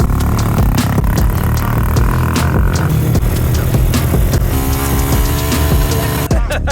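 ATVs drive close by with a loud, throbbing engine drone whose pitch shifts as they speed up and ease off, continuous throughout with occasional clatter.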